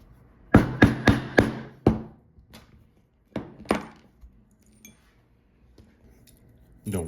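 Hammer blows setting cap rivets into a small leather dog collar, four sharp strikes in quick succession, then a heavier hit and a few lighter taps, close and loud in a quiet room.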